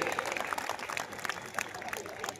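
Applause from an audience at a Hindi poetry gathering during a Durga festival event, a steady dense patter of many hands clapping at moderate distance, fairly soft and continuous throughout.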